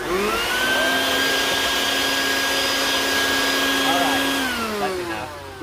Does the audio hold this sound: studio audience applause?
no